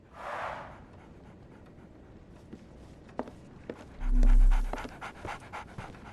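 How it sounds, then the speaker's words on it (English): A dog in the video game Sherlock Holmes The Awakened pants in a short breathy burst, followed by soft footsteps and a louder panting huff later on, all fairly close. "So, Barnes has a dog now."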